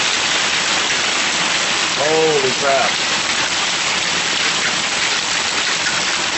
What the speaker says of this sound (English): This is hail, people.